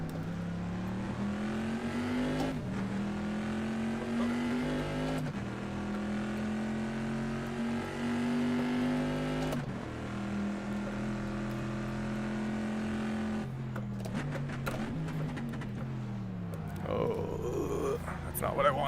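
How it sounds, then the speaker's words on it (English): A heavy 1960s historic race car on a championship circuit holds a loud, steady engine drone, then drops pitch sharply as it brakes into corners, with the engine note stepping down and some clattering after. "It's just so hard to stop this car when it's so heavy with so much fuel."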